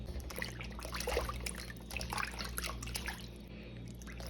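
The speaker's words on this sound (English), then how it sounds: "Now I'm just gonna wash all of the mushrooms in my big bowl of water." Pheasant back mushrooms are washed in a big bowl of water, giving soft, close sloshing and trickling with small splashes in irregular bursts, fairly quiet throughout.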